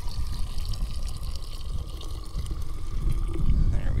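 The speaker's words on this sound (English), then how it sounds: "this water's hot enough, so we'll go ahead and pour it in our canteen" Hot water pours steadily into a canteen at an outdoor mountain pond camp, a continuous close watery gush that swells louder toward the end.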